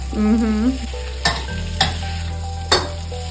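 Raw cubed potato and vegetables fry in a pan with a steady sizzle, broken by a few sharp scrapes and knocks of stirring, and a brief tonal sound near the start.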